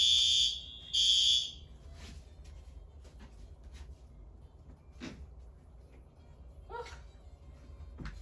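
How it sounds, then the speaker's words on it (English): A building fire alarm under test sounds two loud, shrill tonal blasts in quick succession, then stops, leaving a quiet room with faint shuffling. "They're just testing the alarm."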